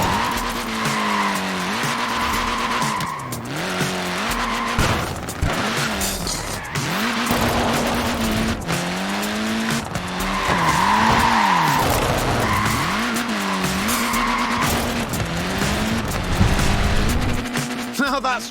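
Small Mini tyres skidding in Forza Horizon 4, with long wavering squeals repeating over a revving engine, loud and close as the car slides and drifts.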